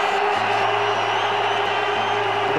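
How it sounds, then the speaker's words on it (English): Cricket crowd at an India vs Pakistan knockout match in the 2004 ICC Champions Trophy cheering after Agarkar's six: a dense, steady roar of a large stadium audience, loud and unbroken throughout. "The crowd go berserk once."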